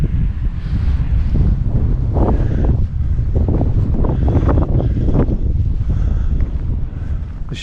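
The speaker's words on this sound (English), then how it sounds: "And it's very windy." Strong wind roars steadily across a microphone outdoors in hazy English countryside, a loud continuous buffeting with gusty swells and no voices.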